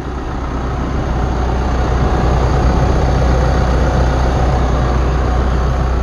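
A Chevrolet Colorado's 2.8 Duramax diesel, newly fitted with a Garrett Powermax turbocharger and no exhaust, idles at first start with a steady, loud, low rumble that holds evenly throughout.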